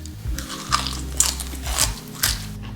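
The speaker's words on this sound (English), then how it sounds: "Crunch test." Crunchy bites and chewing of a steak sandwich with thin matchstick fries, five or so loud close crunches spaced about half a second apart.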